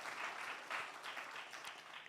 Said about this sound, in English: Give them a round of applause for putting this together.